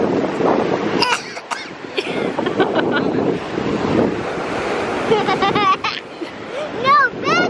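Ocean waves wash and churn at the beach under gusty wind buffeting the microphone, a continuous loud roar with voices talking and a cough over it.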